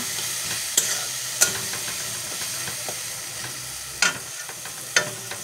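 Vegetable curry cooks in sizzling oil with a steady frying hiss, while a spoon scrapes and clicks against the pan now and then, close and fairly quiet, with no talk.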